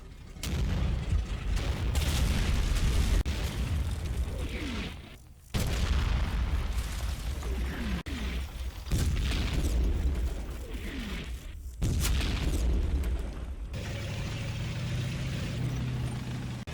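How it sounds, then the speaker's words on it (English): Sherman tank guns and mortar fire in the Combat Mission: Fortress Italy war game, a steady stream of heavy booms and rumbling blasts with brief gaps and no talk. "Shermans and mortars are continuing to put direct and indirect fire on KT4."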